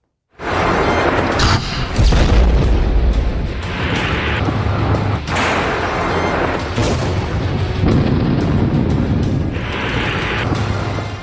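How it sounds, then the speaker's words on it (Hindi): Missile strikes and explosions across Ukraine, recorded as news footage: sustained loud, rumbling blasts with sharp booming impacts near 0, 2, 5 and 8 seconds over continuous low roar and debris noise, with no talking. "यूक्रेन के चप्पे चप्पे पर रूस की मिसाइलें बरस रही हैं।"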